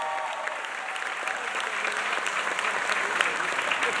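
A crowd at the John J. Duggan Academy 2025 graduation ceremony gives the salutatorian a sustained round of applause, dense steady clapping from a large audience that continues throughout.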